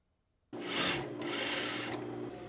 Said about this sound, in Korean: 쉴 새 없이 재봉틀을 돌리고 바쁜 손놀림으로 마스크를 만드는 사람들